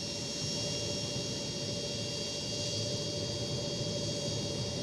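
CitationJet jet engine in the X-Plane 12 flight simulator, a steady, loud turbine roar with a constant high whine and hum holding unchanged throughout, no voices.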